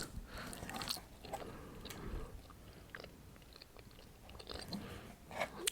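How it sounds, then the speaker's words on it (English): Slow, close-up gum chewing in a quiet ASMR setting, with soft wet smacks and bites repeating unevenly throughout and no talking. "it looks like there's like gum chewing"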